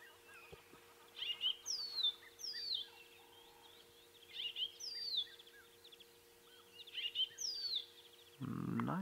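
White-browed scrub robin giving its morning song at sunrise in the African bush: three repeated bursts of bright, rising whistled phrases at a moderate distance, separated by pauses, ending in a brief low rumble of handling noise.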